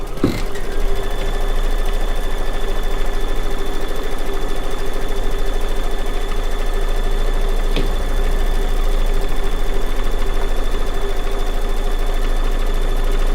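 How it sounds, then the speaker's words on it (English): Embroidery machine stitching a tack-down circle on fabric in a hoop for needle-turn circular appliqué: a loud, steady, rapid mechanical whir with a constant tone and a fast repeating needle rhythm. "So we're going to tack that fabric down, and it will stitch out another circle."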